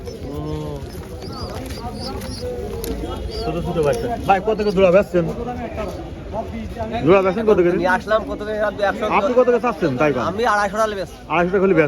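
Pigeons coo softly in the background at a pigeon market while people talk close by throughout.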